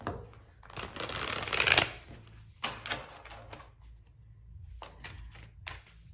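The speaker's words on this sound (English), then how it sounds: "Let's draw that last card." Tarot cards are shuffled and a single card is drawn from the deck, a close papery riffle followed by several softer slides and flicks of cards.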